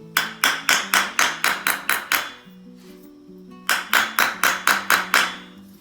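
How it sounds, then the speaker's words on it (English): Sterling silver being flattened with a hammer on an anvil for a simple pendant: two bursts of about eight sharp, ringing metallic blows each, evenly paced and close, separated by a brief lull. "Then I'm going to flatten it on my anvil."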